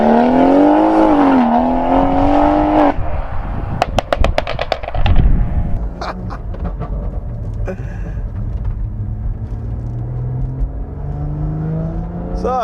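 A Stage 2 tuned BMW M140i revs loudly from outside, its exhaust note rising and falling before sharp pops and crackles, then settling into a steady, quieter rising engine drone.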